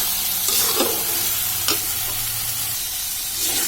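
Onion, ginger, garlic and cumin paste frying and being stirred in a pan for egg curry, a steady sizzle broken by a few scraping stirs of the spoon, close and loud, with no talking.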